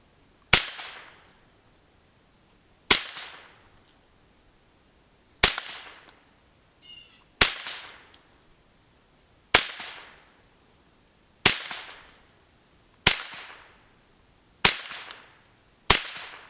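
Nine sharp, close rifle shots from a Ruger 10/22 at a 50-yard range, fired singly at a steady pace about two seconds apart, each crack decaying quickly into quiet.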